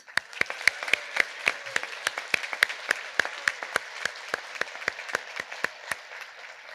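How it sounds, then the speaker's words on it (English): Audience applause at an alumni awards reception honoring award recipients: a fairly small crowd claps with distinct, sharp individual claps in a steady flurry for several seconds, no voices over it. "let's give one last round of applause to our wonderful award recipients"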